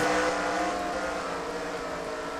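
NASCAR Nationwide Series stock cars roll around the track at a race, a dense, steady engine roar at a distance that slowly fades as the pack passes.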